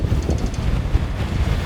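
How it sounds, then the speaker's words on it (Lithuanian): Strong wind buffets the microphone on the deck of a boat off the Lofoten coast, a steady low rumble with gusty swells throughout and no voices. "ant denio, vėjas tai toks nemažas"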